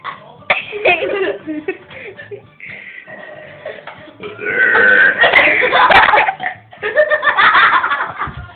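A woman lets out a series of long, loud, rasping burps, with bursts of laughter and giggling from people nearby mixed in between them.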